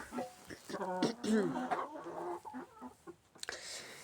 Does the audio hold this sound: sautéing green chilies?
no